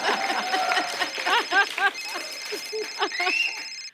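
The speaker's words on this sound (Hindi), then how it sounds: "ये मेरा फोन बजा।" A mobile phone rings with a steady electronic tone on a comedy talk show stage, sounding under lively overlapping talk and chatter from the guests.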